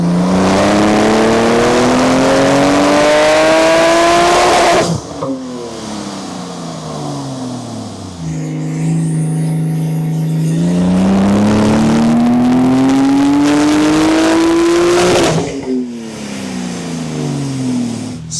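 A 1500 bhp Porsche 992 Turbo S revs hard on a dyno, its loud engine note climbing repeatedly through long pulls with pauses and whooshes between runs, close and alone.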